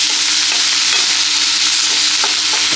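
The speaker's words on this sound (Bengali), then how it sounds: "হালকা নাড়িয়ে দিব, হালকা ভেজে নিতে হবে, তাহলে মশলার কালারটা খুব সুন্দর আসবে" Masala stirred and lightly fried in a pan while cooking a prawn dish with milk, a loud, steady sizzle with soft scraping stirs running throughout.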